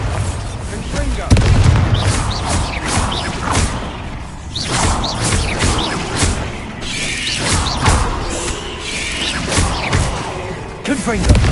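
Confringo spell blasts in the Hogwarts Legacy video game, repeated booming, whooshing fiery bursts in quick succession, loud and close within a busy combat mix.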